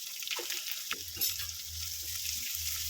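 Chopped onion sautés in coconut oil with ginger, garlic and chili, giving a soft, steady sizzle close by, with a few quiet scrapes of stirring.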